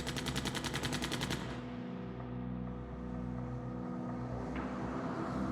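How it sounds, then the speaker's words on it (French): A burst of rapid machine-gun fire in a French cemetery at dawn comes first, a dense rattling volley that breaks off after about a second and a half. It leaves a low rumbling background, with one faint later crack. "les voisins du cimetière de Rieux-la-Pape sont réveillés par une fusillade"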